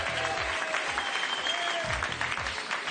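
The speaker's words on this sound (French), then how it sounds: "avec les applaudissements du public" Studio audience on a French TV word game show breaks into loud, dense applause, a continuous wash of many hands clapping throughout, with faint music or tones underneath.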